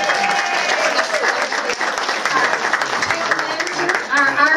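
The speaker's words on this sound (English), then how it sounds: "Why don't we give a round of applause to our Irish mayor, Mayor Carl Brentley, over here." A crowd at a St. Patrick's Day gathering in Clifton Forge, Virginia, applauds the town's mayor. Loud, sustained clapping mixes with cheers and chatter from many voices.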